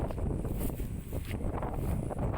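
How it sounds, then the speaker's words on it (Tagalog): Strong gusting wind buffets the microphone outdoors in the Philippines ahead of Typhoon Uwan's landfall, a steady loud roar with surging gusts throughout and no talking. "Kita natin yung lakas ng hangin."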